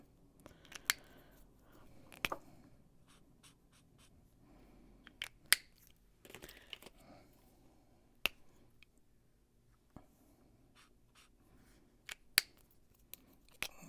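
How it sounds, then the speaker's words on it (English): Sharp isolated clicks sound during work on a paper craft piece, irregular single snaps spaced a second or two apart over a very quiet background, close and crisp. "Sorry about all the clicking."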